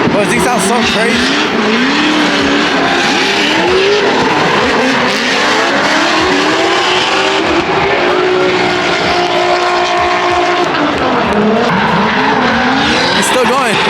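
Big-turbo BMW drift car sliding loudly with sustained tire squeal and a screaming, wavering engine note, very close and continuous, the pitch sweeping up and down as it skids, with excited voices partly buried beneath the roar.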